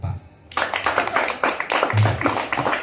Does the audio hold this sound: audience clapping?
yes